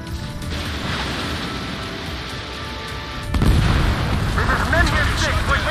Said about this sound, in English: throw a couple of high velocity missiles up his butt